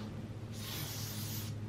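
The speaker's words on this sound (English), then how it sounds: "to spray your own back and actually know you're getting it." A short hissing burst of sunscreen spray applied to a person's back, close and steady for about a second over a low background hum.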